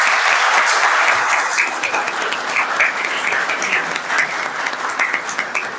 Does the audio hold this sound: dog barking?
no